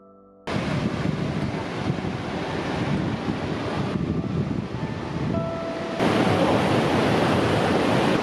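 Wilderness Falls, an outdoor waterfall on a wilderness day hike, gives off a constant broad roar of rushing water, loud and close, with wind buffeting the microphone and no talk.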